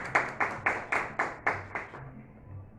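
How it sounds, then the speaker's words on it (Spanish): Sparse clapping from a small audience at a Spanish-language book presentation, about eight distinct claps in a slow, even rhythm, fairly quiet, then stopping. "un aplauso también para él, por favor"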